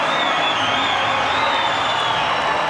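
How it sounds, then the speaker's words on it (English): Dense, roaring arena crowd cheering at the finish of a men's 4x100m medley swimming relay that ends in a dead heat at world record time; a loud, continuous wall of noise throughout. "Listen to the crowd."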